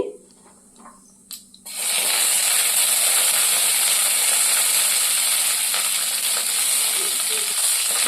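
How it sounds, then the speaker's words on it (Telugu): Coriander seeds, cumin and slit green chillies hit hot oil after a few soft clinks, and a loud, steady sizzle then fills the rest of the clip with no talk. "ఆయిల్ హీట్ అయిన తర్వాత ఒక స్పూన్ ధనియాలు వేసుకోవాలి అలాగే అర స్పూను జీలకర్ర ఇవి వేసుకొని తర్వాత పచ్చిమిర్చి వేసుకొని లైట్గా ఫ్రై చేసుకోవాలి"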